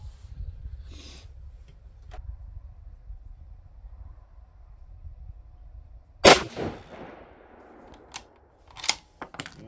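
A single sharp, loud 6.5 PRC rifle shot cracks during load development, standing out sharply against a quiet outdoor background, followed by a few smaller clicks and thuds of handling the rifle.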